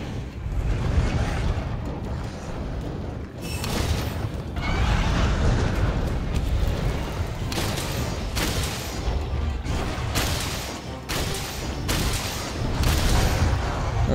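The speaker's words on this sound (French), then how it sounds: "c'est vraiment un fusil à pompe" Shotgun fire in Monster Hunter World Iceborne, a dense barrage of loud booming blasts and impacts layered with game effects, continuous and close, with no voices.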